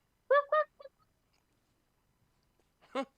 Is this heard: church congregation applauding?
no